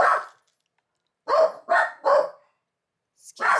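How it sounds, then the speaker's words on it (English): Dog barking several times in quick succession, a short opening bark, then three close loud barks after a pause and another at the end, with a faint yelp between; the dog is an unhappy pet expecting more treats. "He's not a happy dog because he thinks he's supposed to get some more treats."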